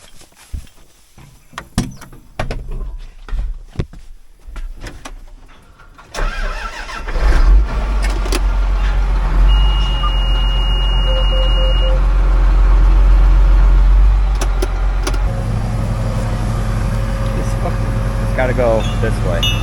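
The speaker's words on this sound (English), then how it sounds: "I'll pull the tractor ahead so we can get that on there." A farm tractor being pulled ahead during harvest preparations, its engine starting after a few knocks and clatters, then idling and running at a loud, steady rumble close by.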